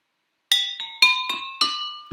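Homemade xylophone with five notes struck in a short sequence of about five bright, ringing, glassy tones, close and clear, each note decaying quickly in a quiet room.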